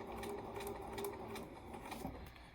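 Small Bernina semi-automatic sewing machine stitching fabric at a Mennonite quilt shop: quiet, fast rhythmic chatter of the needle with light mechanical clicks, steady for a couple of seconds.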